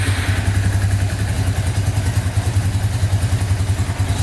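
An ATV engine, starting instantly after being fixed up, runs close by with a loud, steady, throbbing rhythm and faint mechanical clatter and no talk.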